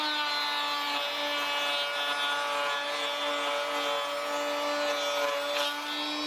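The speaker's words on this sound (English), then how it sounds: "So I'm going to do that at the router table." A router table cuts a groove into wooden box pieces, giving a steady, loud high-pitched whine with a rough cutting texture that holds evenly for several seconds with no talking.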